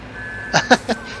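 Three short electronic reversing beeps from a vehicle in Farming Simulator 17 sound in quick succession over a faint steady tone and low background hum.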